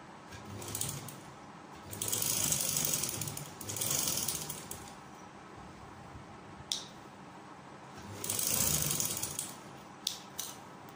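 Sewing machine stitching fabric for a pintex poncha design, running in several short bursts of rapid mechanical clatter with brief pauses and small clicks between, close and without talk.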